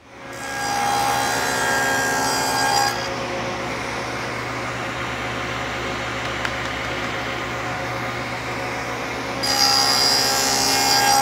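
Table saw fitted with a dado blade cuts dados in wood for a kids' balance beam, a steady loud grinding whine that drops to a lower rumble mid-cut and climbs again at the end.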